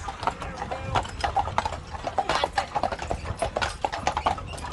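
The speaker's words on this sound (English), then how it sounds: "one of our most famous horses on the island is here to the right" Rapid, rhythmic hoof clip-clops from horses walking nearby on Mackinac Island, Michigan, steady throughout with a faint murmur of background activity.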